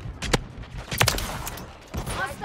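Shotgun blasts in Call of Duty: Modern Warfare III, three loud booming shots spaced about a second apart, each with a short tail, heard close in the game.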